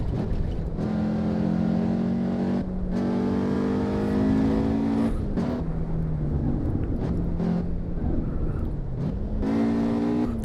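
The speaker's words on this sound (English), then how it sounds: "Giving a little bit of a throttle blip every once in a while." A race car engine in the Assetto Corsa EVO driving game drones steadily and loudly, with repeated throttle blips that spike and drop the revs over a continuous hum. No one speaks.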